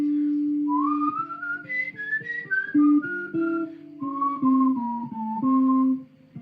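A person whistles a simple melody alone, clear and close, with sustained tones sliding between pitches in short phrases for about six seconds.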